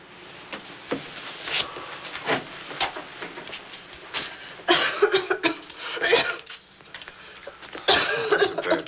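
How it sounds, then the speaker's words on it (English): A person coughs repeatedly in an indoor film scene, harsh hacking bursts of varying strength coming in irregular clusters, with faint background clatter between them. "That's a bad cough."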